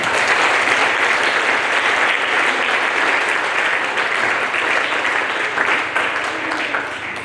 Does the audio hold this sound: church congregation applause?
yes